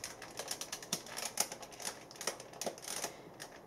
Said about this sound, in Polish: w tej chwili słyszycie jeszcze dźwięk z kamery